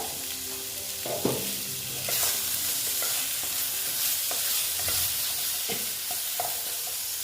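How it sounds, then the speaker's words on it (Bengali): Bitter gourd and pumpkin fry steadily over lowered heat in a pan with a constant hiss, punctuated by occasional scrapes and clinks of stirring. "একটু আস্তে আস্তে ভাজা হতে দিচ্ছি"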